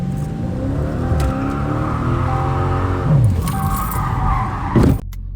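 A Dodge Charger 392 Scat Pack in track mode, loud and close, revving and climbing in pitch as it slides around a corner, with keys jangling in the cabin and a sudden cut-off at the end.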